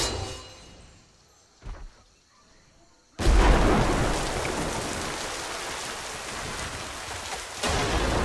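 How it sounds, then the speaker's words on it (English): A storm ability in the game Smite bursts in suddenly with loud, close, steady rain-like roaring and rumble after a quiet stretch with faint game sounds, rising again near the end. "This is my great storm!"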